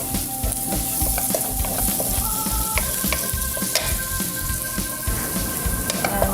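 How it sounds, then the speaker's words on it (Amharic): Onions and garlic sizzle and fry in a hot pan, a loud, dense, continuous crackle with the occasional clink of stirring and no talking. "ሽንኩርቱን ጠብሼዋለሁ።"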